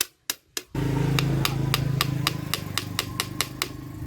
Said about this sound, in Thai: ก็ ตอกเข้าลงไปเลยครับ จนได้ระดับที่เราต้องการนะครับ